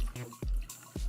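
Water pouring into a Cokunst portable blender jar holding watermelon pieces, a short close splashing fill broken into a few quick gurgling bursts.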